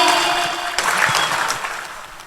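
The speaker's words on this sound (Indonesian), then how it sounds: "Tepuk tangan dingin." An audience claps together in a hall during a religious talk, a brief burst of dense applause that begins loud and tapers off over a couple of seconds.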